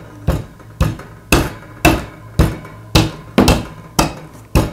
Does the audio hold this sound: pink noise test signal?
no